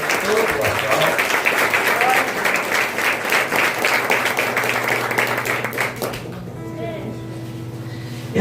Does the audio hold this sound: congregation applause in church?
yes